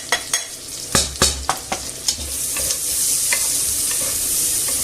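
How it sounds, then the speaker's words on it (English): Red pepper, garlic and onion hit hot oil in a pan after meatballs were browned in it, with a few sharp stirring scrapes followed by a steady, close sizzle. "And in that same oil, we'll add the red pepper, garlic and onion."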